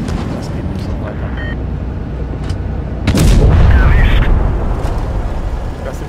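Tank guns boom and rumble in World of Tanks Blitz during a platoon battle, with a loud blast about halfway through that leaves a heavy rumble, and game noise under someone talking.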